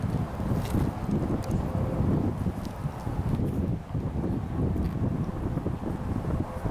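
Steady, strong wind buffets the microphone on an outdoor disc golf course beside water in spring, a loud continuous low roar with gusty fluctuations throughout and no voices.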